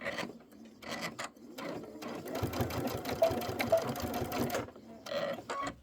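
A sewing machine stitches quilt sections in quick, faint bursts of rapid needle chatter, stopping and restarting between runs, with light handling sounds in the pauses.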